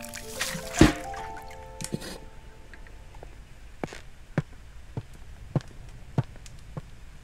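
A plant pot being watered in the puzzle game Botany Manor: a loud splash of poured water, then a slow run of soft, separate drips falling one by one, clear against a quiet background.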